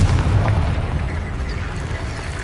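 Confringo exploding spell cast in Hogwarts Legacy, a loud, sustained fiery blast with a deep rumbling roar that fills the whole moment without pause, no voices over it.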